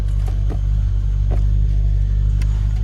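LS V8-swapped Porsche 996 idling as it backs up, a loud, deep, steady engine rumble close by with a few faint clicks over the top.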